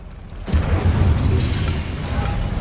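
A sudden booming blast from the Confringo spell in Hogwarts Legacy, striking hard after a brief quiet moment and rolling on as a dense, sustained rumble.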